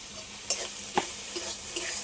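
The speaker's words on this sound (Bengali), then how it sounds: "সবগুলো একসাথে একটু ভালো করে কষিয়ে নিয়ে হালকা করে কষিয়ে নিই" Spices with salt and turmeric sautéing in a pan: a steady close sizzle broken by about four distinct scrapes of a stirring spoon.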